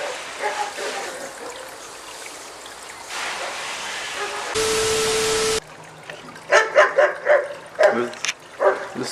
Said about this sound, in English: The stupid dog making noise for no reason, bothering the horse.